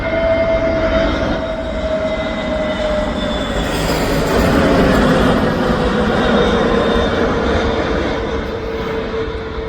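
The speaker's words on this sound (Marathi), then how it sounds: "फर्स्ट विमानाचं आगमन होते नवी मुंबई विमानतळावर" A loud, steady jet roar as an airplane arriving from Hyderabad lands at Navi Mumbai airport, a high engine whine running over a continuous rumble throughout, with no voices.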